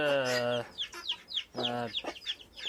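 Chickens with their chicks are close by. Two drawn-out hen calls are interleaved with quick, high chirping peeps from the chicks.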